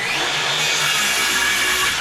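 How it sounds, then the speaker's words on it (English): A power saw cuts through 100-year-old Douglas fir with a loud, steady whining buzz that holds evenly for about two seconds, close by and with no talk. "I thought that the saw would struggle cutting that, and just do a quick demo"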